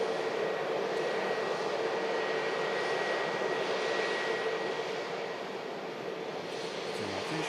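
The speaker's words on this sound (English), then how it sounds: "Jet flight from Porto. Taxis past us at the incredible runway visit back." A jet airliner taxis at a runway visitor park, its engines giving a steady, fairly close broadband roar with a faint high whine that holds level throughout, with no voices.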